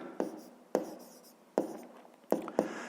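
A pen writes on paper in short scratchy strokes, five distinct taps and scrapes spaced irregularly, close and quiet, with no talk during them.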